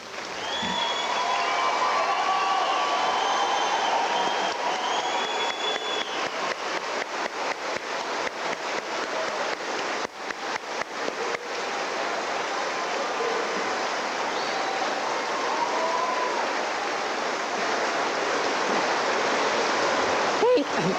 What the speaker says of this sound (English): I welcome your applause for them at this time